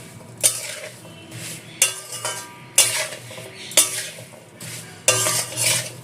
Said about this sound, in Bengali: সব কিছু ভালো করে মিশিয়ে নেব।